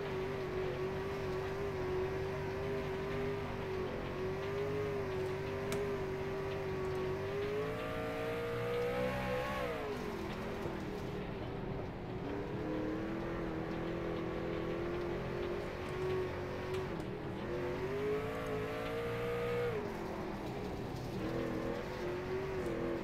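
Race truck engines roar steadily around the Eldora dirt track, a continuous loud drone with rising and falling revs as the trucks circle.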